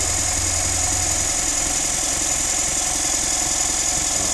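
A car engine with a faulty MAF sensor idles loudly and steadily up close, with a constant high whine and buzzing vibration running through the rough drone.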